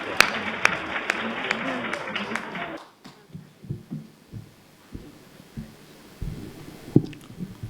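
An audience at a Hindi kavi sammelan poetry gathering claps briefly and loudly for a poet, the dense clapping stopping abruptly partway through, followed by scattered thumps and soft handling noises in a quieter room.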